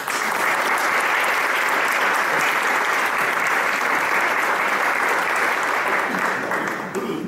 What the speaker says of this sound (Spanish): Un cordial aplauso, por favor.